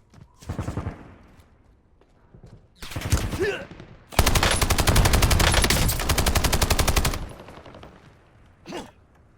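Gunfire in the Warzone video game comes as loud, close automatic bursts, a short burst and then a longer one, followed by a long sustained stretch of rapid fire and a final brief shot.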